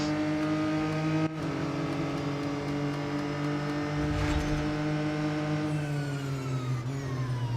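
A racing car engine in the video game Real Racing 3 drones steadily at high revs, with gear shifts and pitch changes as the car runs alone without talk.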